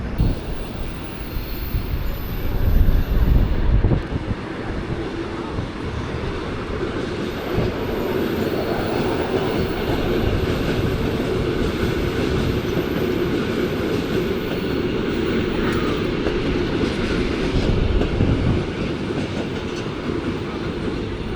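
A train in Tokyo rumbles past steadily for a long stretch, wheels clacking on the rails, with a louder swell early on and a high squeal at moments.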